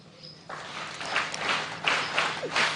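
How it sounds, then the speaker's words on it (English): Girls clap together at the Starehe Girls Centre anniversary celebration, a soft, somewhat distant patter of hands that swells in uneven waves over a quiet hall hum. "Girls, promise us through a clap."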